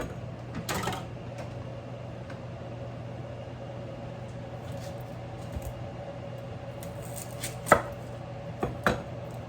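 An onion is chopped on a board with a handful of sharp, scattered knife strikes, one early cluster and a few more near the end, over a steady low kitchen hum.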